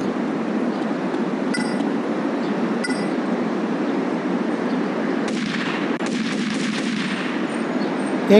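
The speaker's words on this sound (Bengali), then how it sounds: "গুলি করতেছে" Loud, continuous game noise from GTA Liberty City Stories with repeated gunfire bursts and metallic clinks, intensifying toward the end, with no talking.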